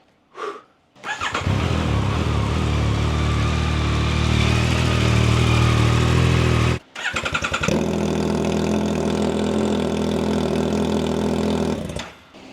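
Motorcycle fitted with a new Kelpi custom exhaust fires up after a brief crank, then runs very loud and steady, cuts out for a moment and restarts, rumbling close by on its own.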